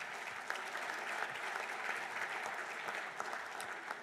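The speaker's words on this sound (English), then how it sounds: "Please give Josh a big round of applause." An audience at a university athletics hall of fame ceremony claps steadily and evenly, a dense wash of applause from a large crowd throughout.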